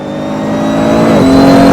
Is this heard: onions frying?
no